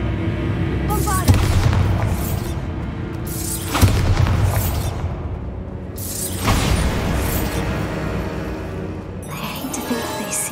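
Repeated booming blasts from the Bombarda spell in Hogwarts Legacy, loud thumps every couple of seconds over a dense game soundscape with a voice shouting between them.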